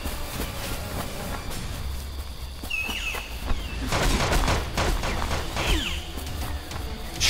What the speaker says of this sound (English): Shit, that was a turret.